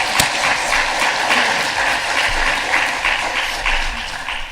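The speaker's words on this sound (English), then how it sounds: "Please join me in giving our presenters a round of applause." An audience at a policy panel session on surface transportation applauds its presenters, giving loud, sustained clapping that stays fairly even before tapering slightly at the end, with no talking over it.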